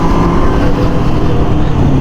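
A GSX-R sport motorcycle engine roars loud and steady, close by, as the rider pulls a wheelie, a dense continuous drone with no break.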